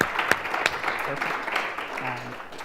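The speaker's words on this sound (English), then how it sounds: "Let's give our panel a round of applause for their participation today" A crowd applauds a panel at the ASU GSV Summit, steady dense clapping filling the room and a few sharper claps standing out near the start.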